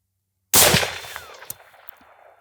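One loud, close rifle shot from a lightweight .308 hunting rifle bursts out of silence and rings off in a decaying outdoor echo, followed by faint clicks.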